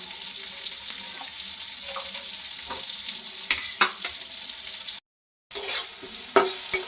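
A spoon scrapes and stirs through salted bitter gourd dal in a pot on a gas stove, with soft bubbling and clinks repeating up close, a brief gap, then more stirring.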